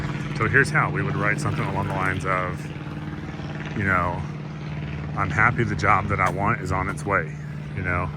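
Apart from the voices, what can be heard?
advertising plane flying overhead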